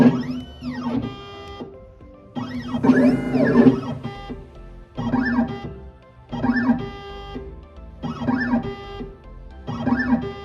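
A Silca Futura Pro key machine decodes an Ultion key, giving a run of repeated mechanical whirring and beeping bursts in a steady rhythm, loud and close, with short pauses between cycles and no talk.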